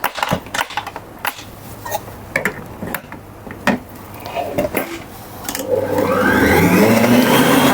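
An electric mixer with a whisk attachment beating cake batter, starting with clattering knocks against the bowl and rising into a steady loud motor whir in the last seconds.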